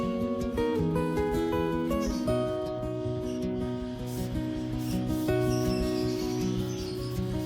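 Orchid leaves being wiped clean, heard as soft rhythmic rubbing strokes close by under steady tonal background music.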